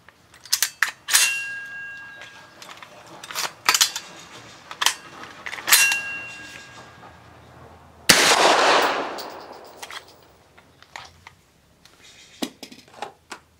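Sharp, loud pistol shots from a Dark Storm Industries Hailstorm 9mm fired outdoors, coming as scattered single reports and quick pairs with metallic ringing, and one heavier blast followed by a broad rushing decay.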